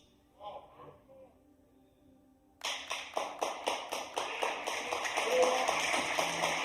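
A church congregation breaks into applause after a short spoken stretch, the clapping starting abruptly and then building into steady, fairly loud rhythmic applause that fills the room to the end.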